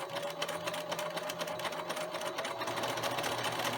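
A sewing machine with a blind hem presser foot stitches butted pieces of quilt batting together, running steadily and fast with a dense, even whirring rattle, close and loud.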